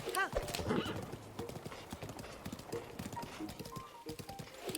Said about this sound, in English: There's some horses over there.